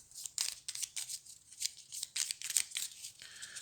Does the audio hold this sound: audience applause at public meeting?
no